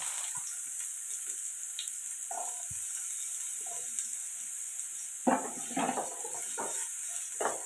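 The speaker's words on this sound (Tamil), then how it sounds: "ஒரு முள்ளாங்கி எடுத்துருக்கேன் இது எண்ணெயில் நல்லா வதக்கலாம்" Radish sautéing in oil in a pan while making radish chutney gives a steady, close sizzle, with clattering stirring and scraping of the pan becoming louder in the last few seconds.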